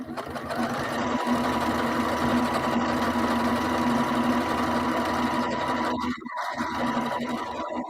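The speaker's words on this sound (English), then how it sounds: "I refuse to give up on doing my decorative stitching around the outside edges." A sewing machine runs steadily, close up and loud, doing decorative stitching around outside edges with a fast even mechanical whir that drops out briefly near the end.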